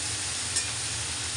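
Vegetable stems with salt and turmeric in a pan give a close, even hissing sizzle with soft stirring, quiet and short.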